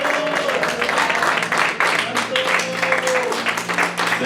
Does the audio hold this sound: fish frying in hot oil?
no